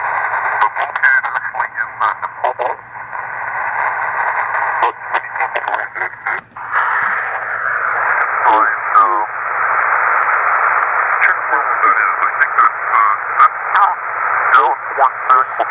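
A Raddy RF760 compact portable radio picks up a very strong lower sideband signal: a rough, narrow-band, distorted voice with steady hiss runs continuously and loud throughout.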